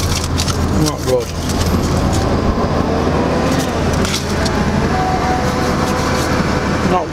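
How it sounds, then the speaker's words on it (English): Heavy traffic in Sheffield town centre, with a dense, continuous rumble of engines close by and a faint hint of rail noise, loud and unbroken throughout. "Traffic is shocking."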